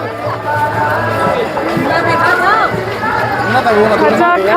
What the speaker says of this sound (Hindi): बहुत भीड़ है भाई